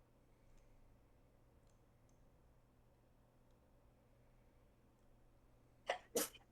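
Two quick sneezes in close succession near the end of a quiet room stretch, sharp and loud against faint background hiss and an occasional soft tick.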